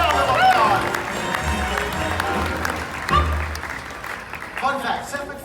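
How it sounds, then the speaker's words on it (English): An audience at a Universal Studios Hollywood special effects show claps and cheers. The applause swells and fades in bursts, mixed with crowd babble and voices talking over it. "Give them both a huge round of applause"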